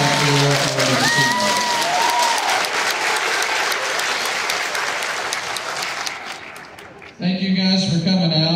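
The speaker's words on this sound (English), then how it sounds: "Let's give these students a warm applause for the rest of the season." Warm audience applause at a school spring band concert finale for combined middle and high school bands, loud and sustained across the crowd, with a voice briefly over it at the start, fading before a sudden burst of sound at the end.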